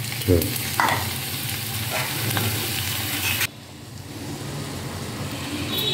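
Onion or potato masala for poori sautéing in a pan, a steady sizzle with scraping stirs, louder at first then dropping to a softer, quieter sizzle after a few seconds.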